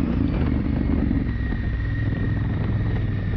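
A Honda Africa Twin motorcycle held on a light, steady throttle while riding a sandy road, its engine a continuous close drone mixed with wind rumble.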